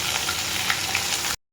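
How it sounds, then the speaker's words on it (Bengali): Raw onion sizzles loudly in hot oil already tempered with bay leaf and dried red chilli, a dense steady crackle heard up close before it cuts off abruptly. "এর মধ্যে কাঁচা পেঁয়াজ দিয়ে দিলাম ভাজার জন্য।"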